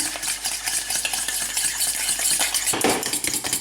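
A whisk beats an egg with sugar rapidly against a bowl, a fast steady clatter of metal scraping with no talking.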